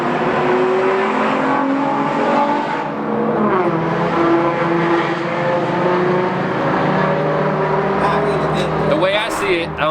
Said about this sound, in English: you hear cars racing on the highway behind us.